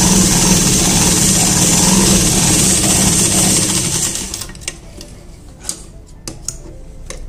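A sewing machine runs a straight seam along the edge of a palazzo belt, a loud continuous whir that stops partway through. Sparse taps and light fabric handling follow in the quieter remainder.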